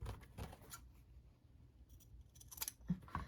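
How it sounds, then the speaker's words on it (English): Scissors snip through the fabric at a sewn shirt corner, a few quiet, crisp cuts heard close up in a near-silent room. "Now what I do is I go ahead and cut this corner right there"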